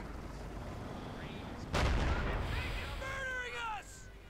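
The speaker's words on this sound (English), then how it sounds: "Jaeger infantry firing away." Infantry gunfire in the World War II strategy game Company of Heroes 2, a sharp broadband burst of shots arriving mid-clip over a low battlefield rumble, with a commentator talking throughout.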